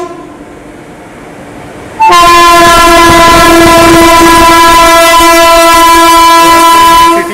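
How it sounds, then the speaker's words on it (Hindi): A City Express passenger train on the Gorakhpur–Banaras route sounds its horn as it passes the station, a sudden, very loud sustained tonal blast over rolling rail noise after two seconds of quieter ambience. "सिग्नल ग्रीन है, एक और ट्रेन यहाँ से पास होने वाली है"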